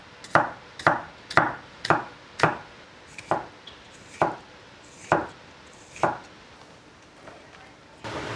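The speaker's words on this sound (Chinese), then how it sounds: "第二种做法的儿菜呢，就把它切成片，厚度大约切个3到4毫米" A knife slicing Sichuan er cai, a stem mustard vegetable, into 3 to 4 millimeter pieces on a cutting board, about ten crisp, evenly spaced chops close by, with a final scrape at the end.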